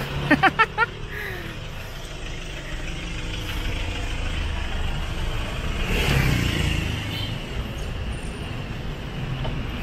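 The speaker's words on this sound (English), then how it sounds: "You are actually side by side with the cars" Car traffic passes close alongside on a busy street in Labangon, Cebu, a continuous engine rumble and road noise with a louder vehicle swelling by midway and a few sharp clatters near the start.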